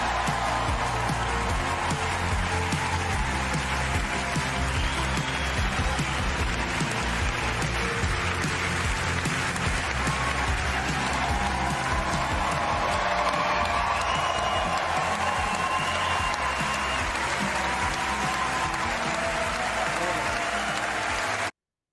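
Steady applause from a large audience fills the whole stretch, a dense continuous wash of clapping with no break, coming from playback of a Michael J. Fox appearance.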